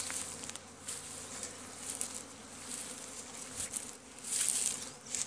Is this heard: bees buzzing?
yes